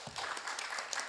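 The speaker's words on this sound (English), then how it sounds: "Maybe a round of applause to Mr. Kaviraj Singh," Audience applause at a roundtable discussion on legislative gaps in the cyber era, a dense, steady burst of clapping filling the whole short moment without any speech over it.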